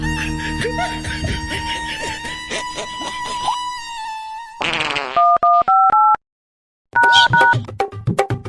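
A phone number is dialed as a short run of electronic keypad tones, clear beeps in quick succession with a brief gap, after a stretch of background music in a Chhattisgarhi comedy sketch.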